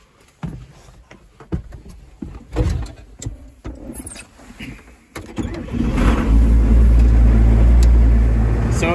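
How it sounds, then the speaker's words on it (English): A farm tractor at a feedlot starting up: several clicks and clunks and short bursts of cranking, then the diesel engine catches and settles into a loud, steady low rumble that runs to the end. "So I'm gonna get the tractor started up and get the feed mixed up in the feeder wagon"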